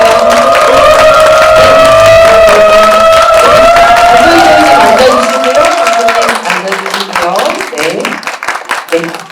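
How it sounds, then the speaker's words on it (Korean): Enthusiastic audience applause and cheering fill a cinema hall at a film screening Q&A, with a loud announcer's voice over the crowd before the clapping fades. "뜨거운 박수로 맞아주세요"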